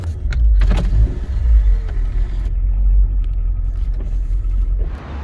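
A 1990 car drives slowly across a yard with a deep, loud engine rumble, steady throughout, and scattered clicks and rattles from the cabin.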